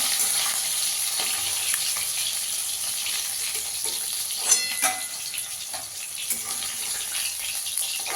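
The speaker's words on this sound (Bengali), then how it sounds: "বাকি মাছগুলোও ভেজে নেব" Pieces of rohu fish frying in hot oil give a steady, close sizzling hiss throughout, broken by a couple of brief clinks and spatters near the middle.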